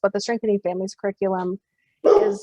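A dog barks in a few short, sharp yaps during a webinar, with someone speaking close and continuously over them.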